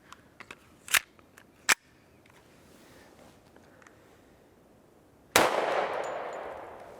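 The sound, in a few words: Hi-Point JHP .45 ACP pistol firing Winchester ammunition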